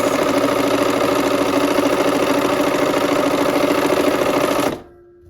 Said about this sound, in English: here we are back at the machine with our 1/4 inch seam allowance